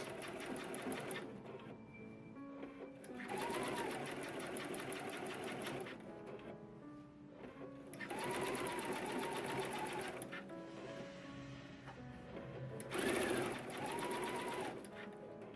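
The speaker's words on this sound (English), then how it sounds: "The foot makes a loud mechanical sound due to the way the needle bar raises and lowers the gear" A sewing machine fitted with a pleating foot sews broomstick pleats into a long fabric panel, running in three loud bursts of fast mechanical chattering separated by quieter pauses, with no talking.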